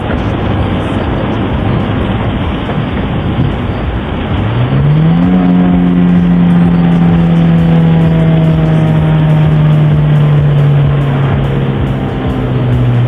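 A Toyota Corolla with a 1.8 liter 1ZZ-FE VVT-i engine roars loudly while being driven hard, rally style, its steady drone rising sharply in pitch partway through as it accelerates, then holding a high, sustained whine to the end.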